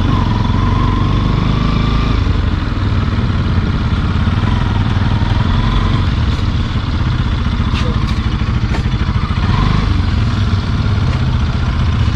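A Bajaj Pulsar NS200 motorcycle engine idles steadily and loudly throughout, with a continuous low rumble and occasional clatter.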